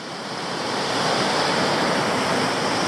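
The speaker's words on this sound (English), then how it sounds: "There's a bunch of cascades basically" Water cascades over a long, continuous sloping rock at Meander Falls in Tasmania, a steady broadband rush that swells slightly and then holds constant. No voices.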